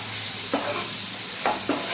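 Tomatoes going into a pan of fried gram flour mixture, producing a steady close sizzle with a few short scraping stir sounds and no voices.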